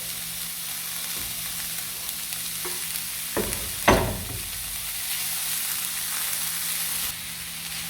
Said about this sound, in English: I've added in the minced beef, and the heat on my cooker is very low right now, so I'm just going to let that saute nicely